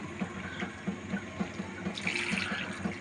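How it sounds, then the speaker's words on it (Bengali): Hot water pours into a pot of beef and potato curry as a steady splashing stream with light rhythmic gurgles, close and fairly quiet. "গরম পানি দিয়ে দিব"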